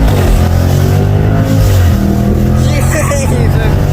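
A 577 brake horsepower Jaguar F-Pace SVR engine roars loudly and steadily close by, its pitch dropping and then climbing again as the revs change. Someone speaks over the engine noise.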